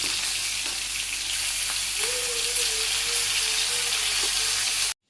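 Fish fry in hot oil in a pan in a Bangladeshi village kitchen, giving a dense, continuous close sizzle with faint clinks, then the sound cuts off abruptly at the end.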